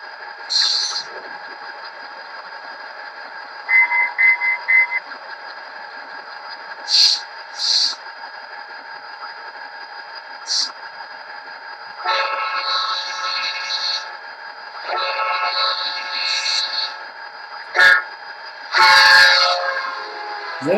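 Rapido F40PH-2D model locomotive in Canada 150 limited-edition livery, its sound decoder droning a steady diesel hum while short horn blasts repeat and a bell-like chime and clanks join later, close and fairly loud, no talking.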